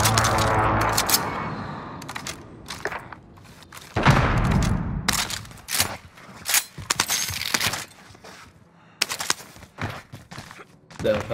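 Gunfire crackles through a Call of Duty: Modern Warfare firefight, with repeated sharp bursts and single cracks in irregular clusters, some loud and close, others lighter, amid thuds and brief pauses.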